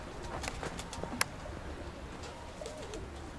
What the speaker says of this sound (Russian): Это голубь с Украины.